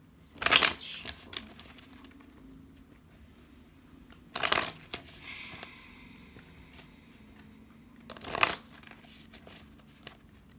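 Tarot cards riffle-shuffled three times, each a short crisp burst of flapping cards separated by quiet pauses with faint handling noise, close to the listener.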